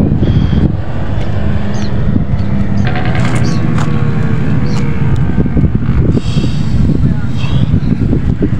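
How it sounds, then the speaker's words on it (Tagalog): Steady wind rumbles and buffets the microphone outdoors on a dike in Malabon, with faint voices and some distant mechanical hum underneath. "Ang sarap ng hangin."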